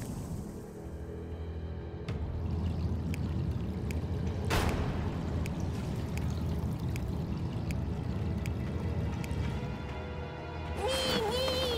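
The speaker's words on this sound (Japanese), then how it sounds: "水の音がする。" In One Piece Odyssey, running water pours in a continuous mid-level wash with scattered clicks, and a brief tonal game sound enters near the end. No one speaks.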